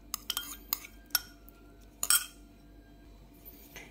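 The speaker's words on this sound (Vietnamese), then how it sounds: "Bây giờ mình cho tỏi giã vô nè." A spoon clinks against a bowl while crushed garlic is added to homemade fish sauce with kumquat juice: several sharp, close taps in the first second, a louder scraping clatter near the middle, then near silence with no talking.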